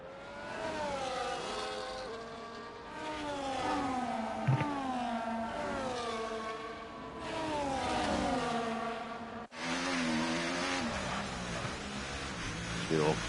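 Race cars in a sim racing game file through the final sector of a circuit in Austria, their engines whining and shifting in overlapping waves as they pass, with commentary talking over them.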